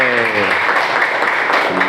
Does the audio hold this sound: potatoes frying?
no